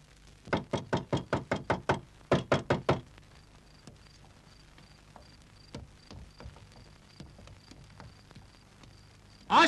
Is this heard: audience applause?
no